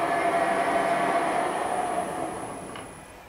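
A Warco GH1440 lathe's two-speed motor, run from a variable frequency drive, hums steadily, then winds down after being stopped, its whine fading and dropping as the spindle slows.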